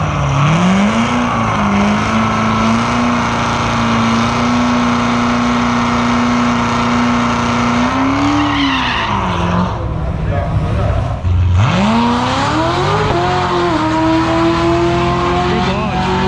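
A blown C7 Corvette launches hard at a drag strip, its supercharged engine roaring loud and close with rising revs, a brief dip and gear-change pitch drops, then climbing again, with a voice talking over it.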